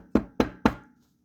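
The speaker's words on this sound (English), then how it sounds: "go knock on this door" Three evenly spaced, sharp knocks on a door, close and hollow, followed by silence.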